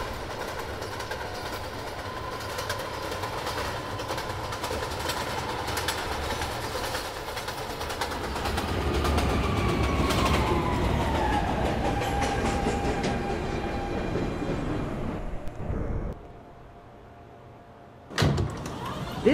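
A Manhattan-bound 1 subway train rumbles and screeches along the track, with a rising whine and steady roar that cut off abruptly near the end, followed by a sharp clunk like doors.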